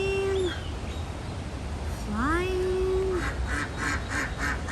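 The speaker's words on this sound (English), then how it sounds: "the birds all are here, swimming, flying." Waterfowl on the water at the Pearl brewery in San Antonio, giving a few loud, drawn-out honking, quacking calls over steady background noise.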